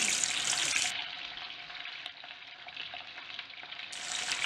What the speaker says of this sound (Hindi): इसमें डाल देंगे हम अपना कटा हुआ प्याज, हमने लंबा लंबा प्याज काट कर रखा है वो डाल देंगे